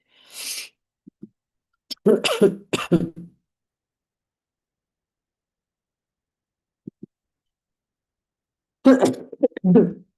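A woman gives a few sharp throat-clearing coughs and snorts in short bursts, close to the microphone, separated by long silence with faint clicks.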